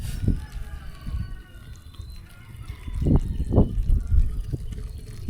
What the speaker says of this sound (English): Get this water in.